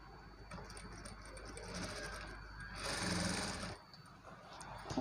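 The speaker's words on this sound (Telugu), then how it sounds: "చూసుకుంటూ స్టిచ్ చేసుకోవాలండి మనము ఈ క్లాత్ని" Domestic sewing machine stitching lehenga cloth, a fairly steady mechanical whir running throughout with a louder, busier burst midway before settling back, close and unaccompanied by talk.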